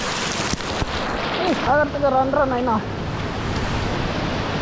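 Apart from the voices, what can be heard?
Penchulakona waterfall, water falling from height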